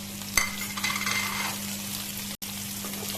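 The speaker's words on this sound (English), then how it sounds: "And now to this, I am going to add the garlic as well as the tomato." Garlic and tomato sizzle in a hot pan for Amritsari Pindi chole, a steady close frying hiss with a brief clatter of stirring early on and a momentary cut partway through.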